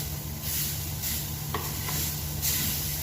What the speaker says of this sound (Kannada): ಸ್ವಲ್ಪ ಅರಶಿನ ಡ್ರೈ ರೋಸ್ಟ್ ಮಾಡ್ಕೋಬೇಕು ಇದನ್ನು